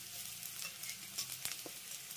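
Poppy seeds sizzle softly with onions in a pan as an eggplant dish is cooked, a faint, even crackle with a few light stirring clicks over about two seconds.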